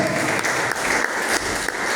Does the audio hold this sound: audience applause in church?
yes